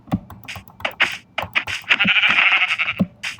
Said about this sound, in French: Oh, un petit mouton, viens là, frérot.